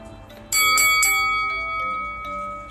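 A subscribe notification bell rings out loud and clear, with three quick bright dings followed by a long shimmering decay, heard alone without speech.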